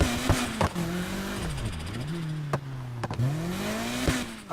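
Car engine and exhaust in the Need for Speed Heat racing game, revving up and down through gear shifts with sharp pops and crackles, fairly close under a steady road roar.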